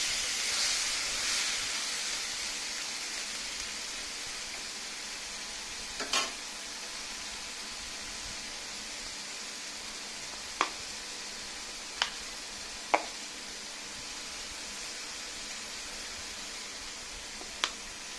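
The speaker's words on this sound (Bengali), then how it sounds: "এখন সুন্দর করে নাড়া দিয়ে দিচ্ছি।" Leafy greens fry in a pan with a steady, soft sizzle and hiss while being stirred, broken by a few sharp clicks and taps of the utensil against the pan. No voices are heard.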